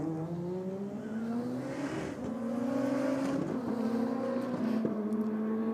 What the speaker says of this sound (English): you can definitely hear that nitrous coming on